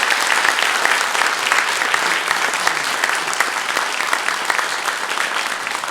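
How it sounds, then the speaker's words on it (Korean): A church congregation at a Sunday morning service claps in celebration as gifts are presented, bright sustained applause from many hands, loud and even for about six seconds with no speech over it. "우리 큰 박수로 한번 축하하도록 하겠습니다."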